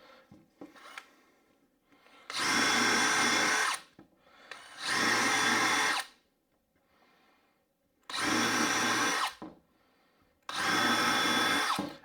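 A power drill bores out holes in a wooden frame for cross-wiring, four loud sustained whirring bursts of one to two seconds each, separated by quiet gaps with faint handling.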